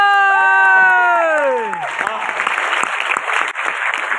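An audience at a business seminar bursts into clapping and cheering while a loud sung or shouted note fades out, then the clapping carries on, uneven and moderately close.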